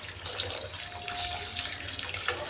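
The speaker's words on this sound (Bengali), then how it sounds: "পরিমাণ মতন জল দিয়ে দেবো" Water poured into a cooking pot of Bengali tangra fish curry over fried spices, a steady splashing trickle, close and unbroken.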